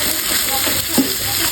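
Pieces of local chicken dropped into hot oil with fried garlic paste and spices give a loud, continuous sizzle and hiss with a brief stirring clatter, heard close up.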